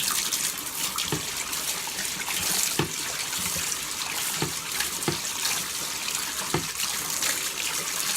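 Paint brush swished and rinsed in a container of water after cutting in walls, a steady watery sloshing with soft splashes recurring every second or so, close and continuous with no talking.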